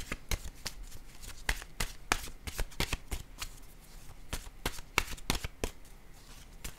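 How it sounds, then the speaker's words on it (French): Tarot cards are shuffled in quick, crisp riffling bursts with short gaps between them, close and fairly quiet. "Je vais piger maintenant une carte, un message de l'univers."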